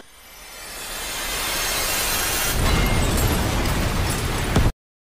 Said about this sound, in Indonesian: udah meledakkan dirinya saat Takamura akan menebas Uzuki